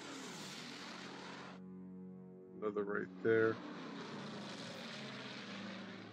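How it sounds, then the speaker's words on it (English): A propeller plane flies in the strategy video game Order of Battle, its steady engine drone starting loud, dropping out briefly, then returning beneath a short spoken comment. "Concentrate on my plane, so let's fly one right there."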